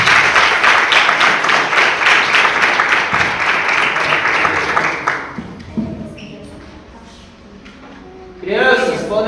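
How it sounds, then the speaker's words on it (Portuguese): A church congregation applauds a woman welcomed to the front, broad clapping that fills the room for about five seconds before fading out, leaving quiet murmurs and then a sudden burst of louder sound near the end. "Vamos receber a serva do Senhor com as palmas,"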